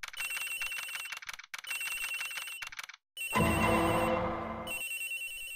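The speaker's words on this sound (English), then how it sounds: "The ringing's coming from somewhere in here, sir." A telephone rings in a flight attendant's room in the game Ace Attorney Investigations: Miles Edgeworth, repeated bright electronic trills broken by short gaps, then a fuller, louder burst of ringing; no speech.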